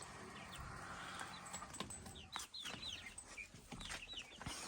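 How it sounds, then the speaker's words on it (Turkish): Chicks peep in high, rapid chirps while hens cluck faintly around them, a busy, low-level farmyard chatter. "Civcivler burada."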